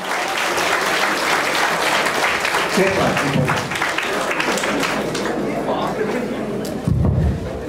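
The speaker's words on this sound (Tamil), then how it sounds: "மற்றொரு முறை நல்ல கைத்தட்டலாம்." Loud, sustained applause fills a college academic excellence awards hall, a dense wash of clapping from a large audience, with thuds and murmuring chatter mixed in.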